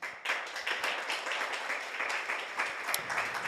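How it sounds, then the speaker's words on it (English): Audience applause at a Python programming conference welcoming a speaker to the stage, a steady wash of many hands clapping at moderate distance, holding evenly throughout without talk. "Please welcome Nyaj-san with applause."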